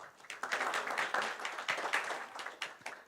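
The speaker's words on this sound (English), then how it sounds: "Please give them a round of applause." Audience at a global health and welfare forum in Taiwan applauding as panel speakers come to the stage, a dense, steady patter of many hands clapping throughout, moderately loud and fairly close.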